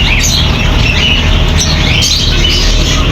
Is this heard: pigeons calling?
yes